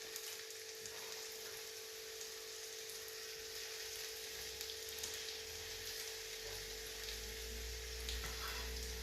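A steak sizzles and fries in a hot pan in a home kitchen, a steady crackling hiss that continues evenly, with a low rumble growing beneath it toward the end.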